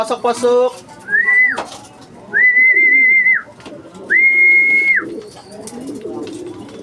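Racing pigeons returning to their loft, heard as close, loud flapping and cooing, with three sustained whistles sounding above the birds and someone speaking in between.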